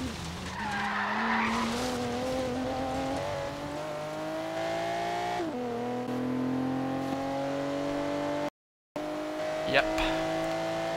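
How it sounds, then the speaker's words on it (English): A Volvo Polestar drifts in Forza Horizon 3, its engine note holding and rising while the tires squeal and skid in long sustained sweeps, with a short dropout and a sharp tick near the end, and a voice talking over parts of it. "Let's see if it can drift. Oh, it can. It can drift."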